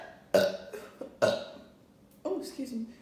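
A couple doing a burping challenge lets out a handful of loud, close burps, three or four separate belches with short pauses, one long and drawn out at the end.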